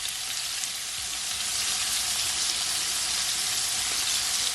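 Shrimp fry in a pan with a dense, steady, bright sizzle, loud and close, running unbroken with no talk.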